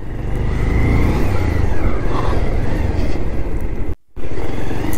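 A motorcycle rides along a forest road, its engine a steady loud rumble blended with wind rush. The roar holds constant and cuts out briefly near the end before resuming.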